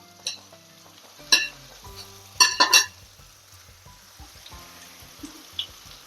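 Mushrooms and potatoes are tipped into a hot pan and fry with a soft steady sizzle, broken by a few sharp clattering bursts as they land and shift.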